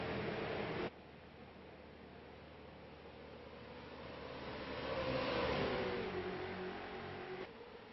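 Late model stock cars roar off the start line in a racing video game at USA International, a dense engine drone that swells and climbs in pitch midway before easing slightly, with no talk.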